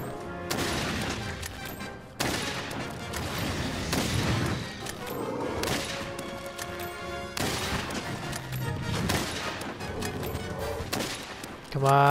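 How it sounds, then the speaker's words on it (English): A relentless barrage of bullets from Monster Hunter World, dense repeated gunfire bursts rolling almost continuously at close range with brief gaps between volleys. "the barrage of bullets"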